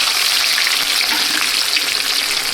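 Mustard seeds, ginger and Mexican chillies fry in hot oil for dal dhokli, giving a steady close sizzle with faint crackle and an occasional stir, no voices.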